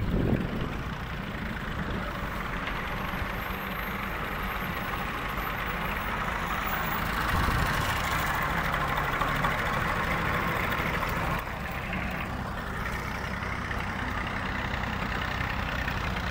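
A tractor engine labours up a dirt slope beside the Chenab river, a heavy, continuous low rumble that holds steady throughout, with no voices.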